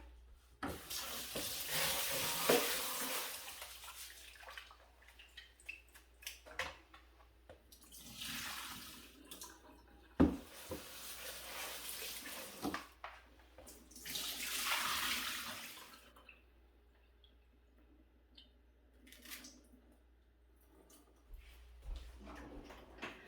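Three cups of rice are washed under running water, with several bursts of tap flow, swishing and rinsing separated by quiet pauses, plus clinks of the pot and grains.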